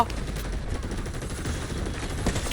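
Sustained rapid gunfire in the shooter video game Delta Force, a dense continuous rattle of shots with no clear gaps, steady and fairly loud throughout, with faint voices underneath.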